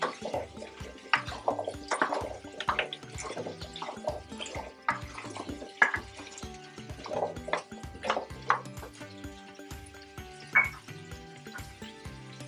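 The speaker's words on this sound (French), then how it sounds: "Alors, on remue." Potatoes and duck sausage are stirred in a pan, giving soft repeated scraping and clattering strokes with light sizzle in an uneven rhythm, close and fairly quiet.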